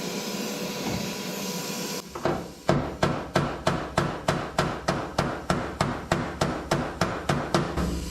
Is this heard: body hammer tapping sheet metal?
yes